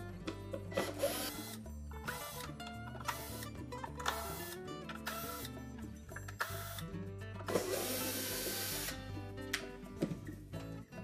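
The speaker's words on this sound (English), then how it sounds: "our next step is to remove these 7 screws that secure the cover to the blower housing" A power screwdriver removes the seven screws holding the blower housing cover on a Whirlpool dryer, giving repeated short whirring bursts with clicks and rattles between them, close and with no talking.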